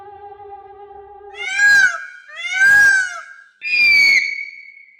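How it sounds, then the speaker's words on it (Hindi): An animated cartoon witch screams in three loud, wavering shrieks that rise and fall, each about a second long, following a brief steady tone. "सूरज की पहली किरण पड़ते ही चुड़ैल चीखती हुई गायब हो गई।"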